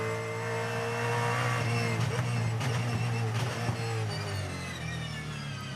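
A Supercars race car brakes hard into turn 2, its engine note dropping through gears with a loud, sustained mechanical roar and a few sharp transient pops.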